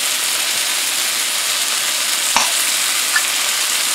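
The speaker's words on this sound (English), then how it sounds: "as this is starting to sear on this side, we're going to add the Goya" Ham steak searing in a cast iron pan with Goya medium salsa verde, a steady close-up sizzle and hiss with one small tap partway through and no talking.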